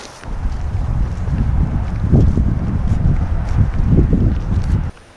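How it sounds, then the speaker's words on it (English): Strong wind at an RC model airplane flight training field buffets and roars steadily for several seconds, gusting with low rumbling noise, then drops off abruptly at the end. "this day, it was quite windy. Like, really windy."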